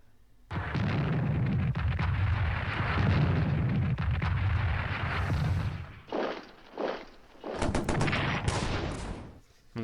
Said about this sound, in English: nice shot there from the artillery